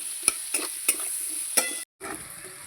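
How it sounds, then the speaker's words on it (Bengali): Onions and potatoes fry in a pan for a fish-oil dish, with a steady sizzle and several sharp stirring clanks. Near the end the sound cuts out briefly, then the sizzle resumes. "লবণ লাল লাল করে আমি ভেজে নেবো পেঁয়াজ আর আলু"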